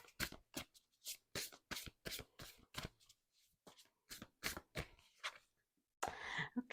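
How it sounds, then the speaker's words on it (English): Oracle cards being shuffled by hand, a series of crisp riffling bursts in an uneven rhythm, close and fairly quiet, ending in a longer rustle. "Give it a little bit more mix, and then let's pull a card"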